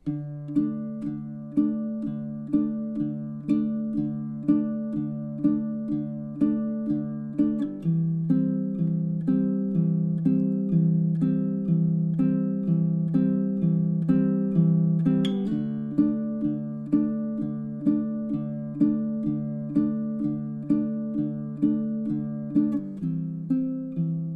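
Fingerstyle picking on a baritone ukulele moves through a simple two-chord pattern, with evenly plucked notes ringing in a steady repeating rhythm, clear and close, with no voices.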